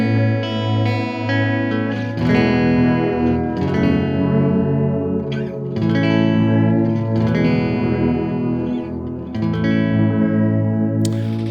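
An electric guitar plays through a stereo delay pedal set to white mode, sustained distorted chords and notes ringing into repeating echoes and a wide chorused wash, loud and continuous with no speech.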